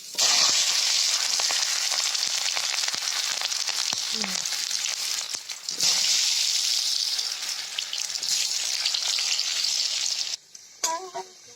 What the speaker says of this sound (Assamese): পোনপ্ৰথমে আলুখিনি ফ্ৰাই কৰি ল'ম।